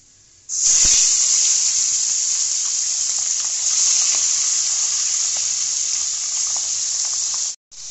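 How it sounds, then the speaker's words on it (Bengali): Pabda fish fried one at a time in hot oil in a wok give a loud, sudden sizzling hiss that starts abruptly, holds steady and bright for several seconds with faint crackles, then cuts off briefly near the end. "কড়াইয়ের তেল গরম হয়ে গেছে এবার মাছগুলোকে এক এক করে আমি সব ভেজে নেব"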